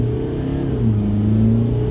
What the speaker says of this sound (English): Ready from the standstill. Press the accelerator now.